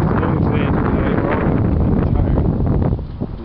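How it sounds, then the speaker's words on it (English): Cold wind rising outdoors and carrying blowing snow, roaring steadily and loudly across the microphone as a continuous buffeting rush. "Wind is coming up."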